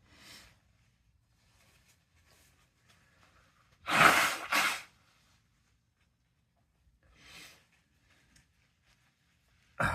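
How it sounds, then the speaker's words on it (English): A short, forceful nose blow into a tissue, two quick honking bursts, with faint rustling and a few soft breaths around it in an otherwise quiet room. "apologies for you having to listen to me blow my nose"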